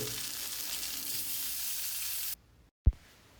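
Mackerel fish frying in a pan with a steady, close hissing sizzle that stops abruptly, followed by near silence and a single soft knock.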